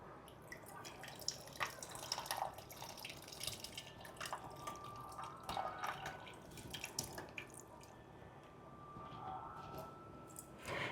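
Light dripping and trickling water being poured into a cooking pot in a kitchen, with small splashes and taps scattered across a steady quiet background.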